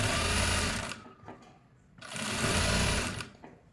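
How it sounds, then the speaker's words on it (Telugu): A sewing machine runs top stitching along fabric piping in two steady bursts of motor whir, each about a second long, with a short pause between them. "ఇక్కడ చూడండి, ఇలా టాప్ స్టిచ్ చేసేసుకోవాలి."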